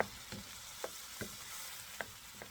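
Ingredients sautéing in a pan to start a Filipino bottle gourd dish, a continuous close sizzle broken by a few sharp utensil clicks and stirring scrapes, with no voices.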